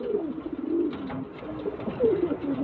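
Andhra breed pigeons coo in low, wavering rolls close by, continuous and fairly steady throughout, with no voices.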